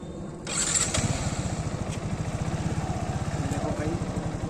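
Motorcycle exhaust from an Apache RTR 160 or Yamaha MT15 starting up and settling into a steady, throbbing idle close by, loud and continuous.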